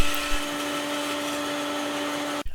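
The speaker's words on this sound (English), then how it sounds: "The diagonal piece is cut to shape on the bandsaw." Bandsaw cutting notches into a wooden garden gate frame, a steady, close whine with a sustained tonal hum that stops abruptly at the end.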